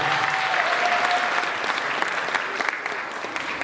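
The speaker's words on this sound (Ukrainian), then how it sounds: "Під ваші шалені оплески зустрічаємо парад учасників" Loud, continuous applause from a crowd at the opening ceremony of a Cossack tournament, steady clapping that greets the parade of participants and fills the whole stretch without a break.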